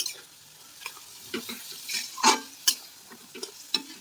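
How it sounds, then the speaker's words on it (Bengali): Vegetables for fried rice fry in a pan at an outdoor picnic cooking spot, giving faint, intermittent scrapes and sizzles with a few sharper clinks of a utensil against the pan. "আমরা ফ্রাইড রাইসের সবজিটা ভেজে নিচ্ছি।"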